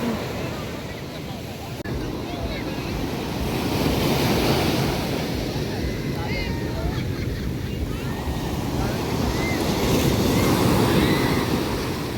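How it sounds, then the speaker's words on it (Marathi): Ocean waves at Candolim beach in Goa wash in continuously in the evening, a broad surf roar swelling and easing with wind buffeting the microphone, heard alone without talk. "फ्रेंड्स आम्ही आलेलो आहोत कॅन्डोलिम बीचवरती"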